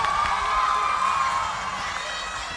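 Junior high school students cheer and clap for a student council candidate, a brief burst of shrill, excited shouting and whooping from a crowd of children that fades slightly toward the end.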